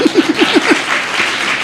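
A youth festival audience gives a short burst of applause, brief clapping with a few vocal sounds near the start before the noise settles.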